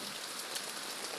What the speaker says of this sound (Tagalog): Pero yung ulan, humina na